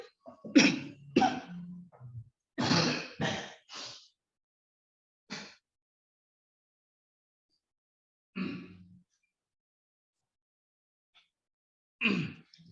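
A burst of harsh coughs in quick succession, then a few single coughs spaced apart by silence, close and fairly loud.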